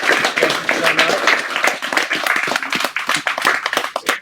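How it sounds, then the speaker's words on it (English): A small audience applauds after a poetry reading at a hybrid in-person and online event, with close, uneven hand claps mixed with voices talking over them. "Let's give them a round of applause for wonderful reading."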